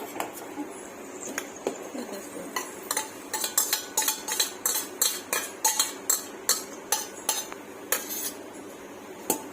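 A spoon stirs and clinks against a pan holding payasam with fried cardamom, cashews and raisins, giving a quick run of sharp metallic taps that grows busier midway, close by and without speech.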